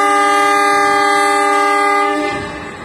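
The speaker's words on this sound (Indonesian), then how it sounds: "kereta api Singhasari persiapan berangkat dari jalur 4 stasiun Magetan" Locomotive horn of the Singhasari passenger train departing from track 4 at Magetan station: one long, loud, steady blast held for about two seconds, then trailing off into low rumbling.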